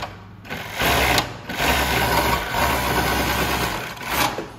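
A Pegasus EXT321 5H-A05 walking foot machine sews through thick material. The motor hums steadily and loudly throughout, with short pauses and slight changes in speed.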